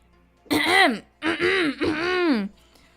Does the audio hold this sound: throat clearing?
yes